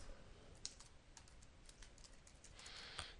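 Quiet keystrokes on a computer keyboard, a loose run of soft clicks at an uneven pace with a slightly louder burst near the end, close and faint.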